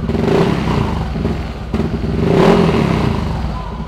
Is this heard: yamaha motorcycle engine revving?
yes